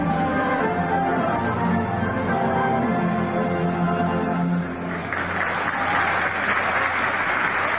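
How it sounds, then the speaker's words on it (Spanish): Stadium crowd applauding Peru's national anthem at a football match between Argentina and Peru, a dense, continuous wash of clapping and cheering filling the whole stretch, loud and steady with a slight swell near the end. "Es hermoso ver el aplauso del simpatizante argentino por el himno de Perú"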